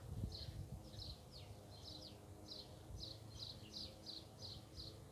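Quiet buzzing of insects, likely bees, around a flowering apple tree in a semi-wild forest garden in the Jura, France, heard as faint repeated high chirps over soft outdoor ambience, with no talking.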